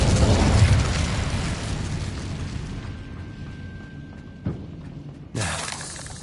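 An Incendio fire spell is cast in Hogwarts Legacy on PS5: a loud fiery burst that roars and gradually dies away, followed by a sharp crack and then a second, fresh whoosh near the end.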